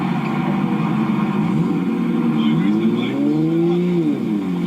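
A Toyota Supra's engine gives a steady, loud, droning hum. Its pitch swells and sweeps up and back down toward the end, as if being revved.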